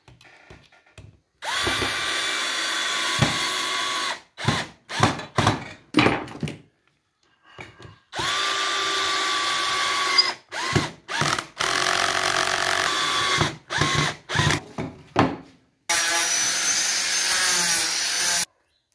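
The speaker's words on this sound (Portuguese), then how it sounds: "Vamos dar um parafuso aqui no meio." A power drill drives a screw into pine wood in repeated bursts: long whining runs alternate with short stuttering trigger pulses and brief silences between them, close and fairly loud.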